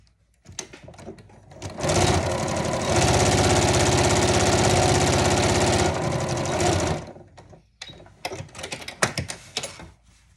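A sewing machine stitches fabric for a boxy bag, running in one steady loud whirring burst of about five seconds, with handling clicks and rustles before and after.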